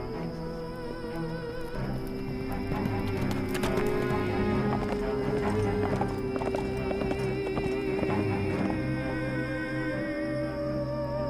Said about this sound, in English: Mary mounted her horse and took off to look for her husband